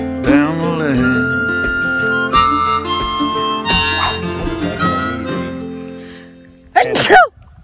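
Someone sings or hums for several seconds, then a sharp, loud sneeze bursts out near the end.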